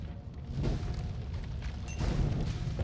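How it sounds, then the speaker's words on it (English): Acid explosions go off in the video game Noita, producing dull booming bursts over a dense, noisy game soundscape, with a fresh burst near the two-second mark. "Bad guys having acid explosions?"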